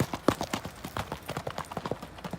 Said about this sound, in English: A real horse.